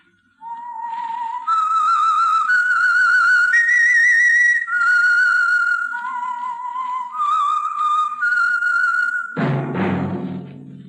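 Whistled theme of the radio show The Whistler, a loud, close, wavering melody of held notes stepping up and down, ending in a sudden bright orchestral burst.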